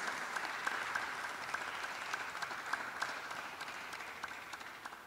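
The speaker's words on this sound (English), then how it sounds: "More applause, please." Lecture audience applauds at the end of a talk, a steady, moderately faint patter of many hands with occasional sharper individual claps, continuous throughout with no voices.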